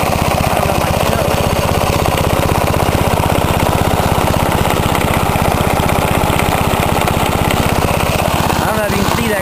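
Charcoal-fuelled engine spinning an alternator to charge a battery, a loud, steady rhythmic chugging drone that runs throughout, with a faint voice talking underneath.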